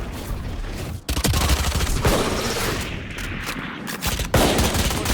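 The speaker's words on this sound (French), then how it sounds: "Je tire sur le clone." Gunfire in the video game Valorant, dense bursts of rapid shots and booming blasts crowding a loud, near mix, with a brief gap before heavier fire resumes.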